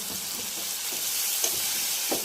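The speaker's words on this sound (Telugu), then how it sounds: "ఇదంతా కూడా వేసి పచ్చివాసన పోయేంత వరకు వేయించుకోవాలి" A paste of ginger, garlic, mint and coriander fries in a pan for biryani rice, giving a steady, close hiss of sizzling oil with a few soft scraping stirs and no talk.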